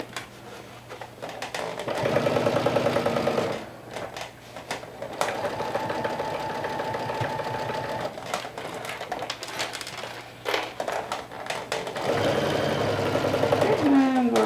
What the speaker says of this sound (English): You're sewing on a curve.